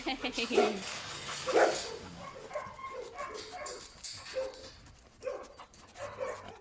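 Several dogs bark and yip in the background at a rescue kennel in Benferri, Spain, while people talk nearby.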